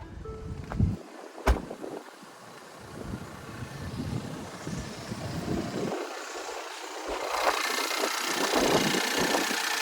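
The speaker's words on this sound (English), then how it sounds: "Let's check out that 2-liter turbocharged 4-cylinder." A 2021 Lincoln Corsair Reserve's 2-liter turbocharged four-cylinder engine idles with a steady, close mechanical hum and broad noise. Two sharp knocks come early, and the sound grows a little louder and brighter toward the end, with no talking.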